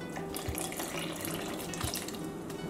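Two cups of water pour steadily from a container onto cut cantaloupe halves in a kitchen, a continuous close splashing stream with a couple of brief louder splashes.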